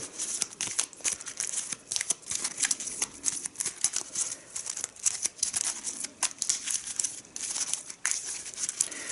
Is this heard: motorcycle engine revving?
no